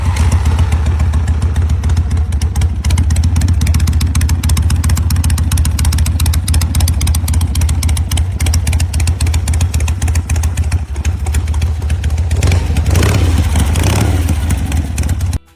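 A classic Harley-Davidson Ironhead motorcycle engine runs loud and close at a steady idle, with a lumpy, rapid thumping beat and mechanical clatter throughout.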